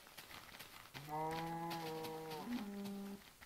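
A cow in a Minecraft-style video game lets out one long, loud moo lasting about two seconds, with a slight pitch drop near the end, over faint background game sounds.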